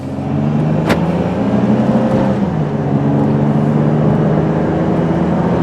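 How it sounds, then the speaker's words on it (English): A 2004 Dodge Caravan front-wheel-drive minivan drives and accelerates, its engine a steady loud drone heard from inside the cabin, with a gear shift easing the pitch partway through and road noise beneath. "It's not a race car, but it does get up to speed pretty good."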